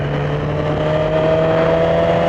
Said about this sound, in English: the engine is so mellow, it's crazy